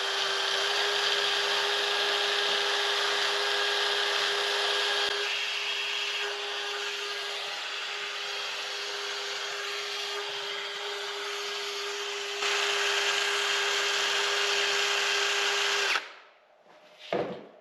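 A handheld power tool buffs the wheel hub mating surface on a 2020 Polaris Ranger XP1000 Northstar Ultimate, a steady loud whine with a constant pitch running about sixteen seconds before cutting off abruptly.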